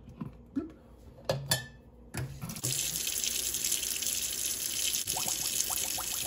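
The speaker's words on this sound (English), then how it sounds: "Oh, bubbles. They're making bubbles." A Wagner cast iron pan is lowered into a bath of liquid: a few clanks and splashes, then a steady watery hiss with small bubbles popping and gurgling near the end.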